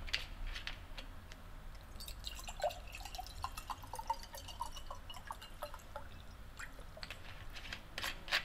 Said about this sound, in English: All you have to do is add water.